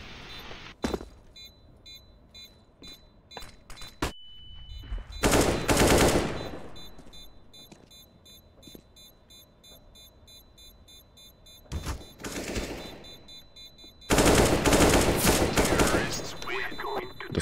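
Gunshots in the video game CS:GO come as a few sharp single cracks, then loud sustained bursts of automatic fire in three separate clusters, with quieter stretches of game ambience in between.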